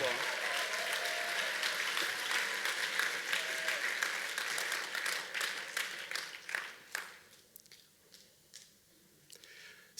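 A church congregation applauding for the Lord during a sermon: loud, sustained clapping that thins out after about seven seconds into a few scattered claps, with a voice present beneath the clapping.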